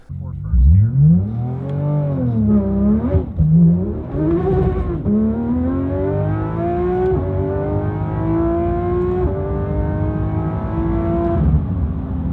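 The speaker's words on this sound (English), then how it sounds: "I'm just going to show you a quick clip of Randy driving this thing" A 1200hp Nissan GT-R R35 revs hard and accelerates, its loud engine note climbing through the gears in long rising sweeps with brief dips at each shift, close and continuous.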